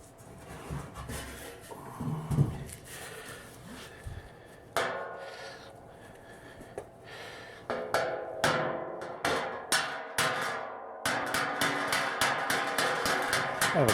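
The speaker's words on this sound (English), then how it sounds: "I'm going to tap on it some more." A hammer with duct tape over its tip taps a painted car body panel in quick repeated strikes, growing into steady rapid tapping, with occasional talk early on.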